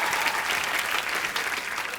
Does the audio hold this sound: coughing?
no